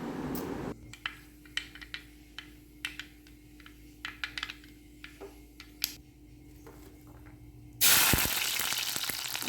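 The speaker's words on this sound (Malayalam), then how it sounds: "വെളിച്ചെണ്ണയൊക്കെ ചൂടായി വന്നതിന് ശേഷം നമുക്ക് കടുകിടാം" Mustard seeds splutter in hot coconut oil, making scattered sharp pops and crackles that repeat at an irregular pace, then a sudden loud, continuous sizzle bursts in near the end.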